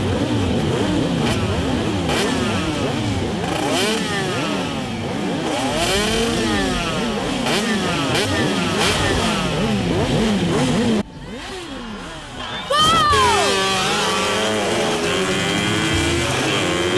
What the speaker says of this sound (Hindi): ये कौन है जो बाइक हवा में उड़ा रहा है?